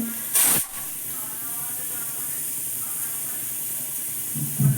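Steam hisses sharply from a pressure cooker on a gas stove while rice and potatoes cook, a loud burst near the start, then a steady faint hiss with low kitchen rumble underneath.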